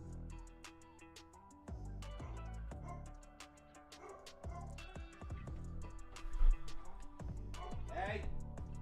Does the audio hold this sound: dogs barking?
yes